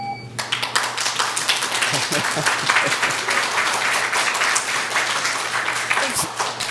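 An audience applauds at a city council meeting, a dense burst of many hands clapping that continues steadily and fairly loudly throughout.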